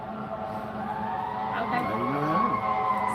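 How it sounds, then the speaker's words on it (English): Emergency vehicle sirens wail and sweep in pitch at a busy intersection, loud and steady, with a person speaking briefly over them. "Sorry for the sirens. It happens."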